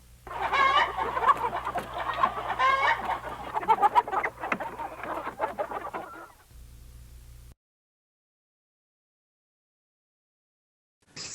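A chicken clucks loudly and repeatedly at close range, a dense run of squawking calls lasting several seconds that drops to a low hum and then near silence.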